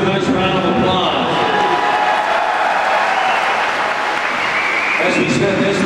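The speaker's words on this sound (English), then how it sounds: "let's give these two warriors a nice round of applause." A crowd in a boxing arena in the Fight Night Round 4 video game applauds loudly, a dense, continuous roar of clapping and cheering that runs unbroken from start to finish.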